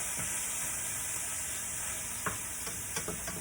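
Butter beans and chunky vegetables sizzle steadily in a hot pan, a dense close hiss with a few soft clinks of stirring near the end, no talking.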